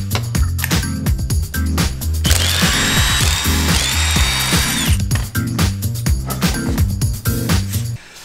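Loud ratchet wrench with a 22 mm socket spinning off the front wheel lug nuts of a Jeep JL Wrangler in a garage, rapid clicking bursts and steady ratcheting runs close up, no talking.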